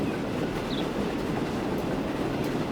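A train rolls along in the railway simulation game Transport Fever 2, a steady broadband rumble and rush at moderate volume with no talking, continuous throughout.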